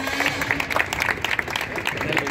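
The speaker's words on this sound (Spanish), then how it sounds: "a quien le damos un fuerte aplauso por estar aquí en solidaridad con los mineros" Dense clapping from an audience at a solidarity gathering for miners in Salta, sustained and fairly close, with voices mixed in underneath.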